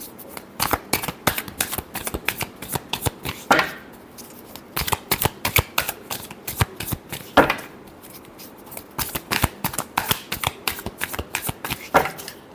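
Tarot cards are shuffled close up in a crisp, rapid riffle of sharp flicks and slaps, coming in repeated clusters with brief pauses between bursts.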